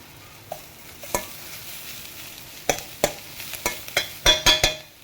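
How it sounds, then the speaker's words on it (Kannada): Coriander leaves are stirred into bread toast masala in a pan, with a few scattered scrapes and then a quicker cluster of close spatula strokes over a soft sizzle. "ಕೊತ್ತಂಬರಿ ಸೊಪ್ಪನ್ನ ಹಾಕಿ ಮಿಕ್ಸ್ ಮಾಡಿ"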